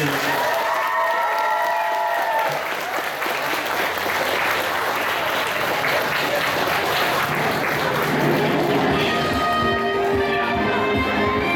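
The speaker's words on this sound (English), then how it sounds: "Give them a round of applause, guys." A convention crowd gives a round of applause during an anime-style quiz game, dense clapping swelling in the middle with some cheers, while talking voices come through at the start and again near the end.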